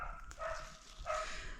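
Dogs barking in an autumn orchard on a Portuguese homestead, two short barks at moderate distance over rustling outdoor background.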